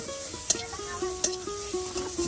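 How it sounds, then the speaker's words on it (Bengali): Chopped onions frying in a pan on a clay stove give a soft, steady sizzle with a few light clinks of stirring, and a faint tonal hum runs underneath. "সেই কুচি করা পেঁয়াজগুলো এই যে এখন আপনার ভালো করে ভেজে নেওয়া হবে"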